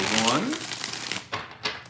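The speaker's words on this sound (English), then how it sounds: "2 more shuffles" Tarot cards are shuffled close up in quick riffling bursts with a couple of sharp clicks, a voice briefly heard at the start.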